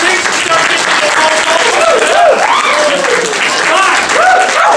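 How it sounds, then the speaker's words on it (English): A crowd at a ComedySportz improv comedy show claps loudly and continuously, with cheering and whooping voices rising over the dense applause. "That's applause."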